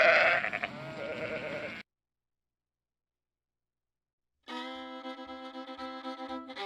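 Sheep bleat in two clear, close calls separated by a stretch of silence, the first wavering and breathy, the second a steady, nasal, tonal baa with no voices around.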